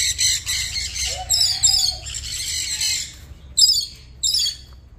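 Harsh parrot squawks ring out in bursts, loud and close, with brief pauses between calls over a low background rumble, near Hua Hin, Thailand.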